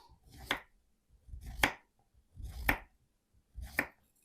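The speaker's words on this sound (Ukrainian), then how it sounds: "Нарізаємо такими такої ширини кружальцями." A knife cuts zucchini into rounds on a board, four distinct, evenly spaced chops about a second apart, each a short thud with a crisp edge, close and fairly quiet, with no speech.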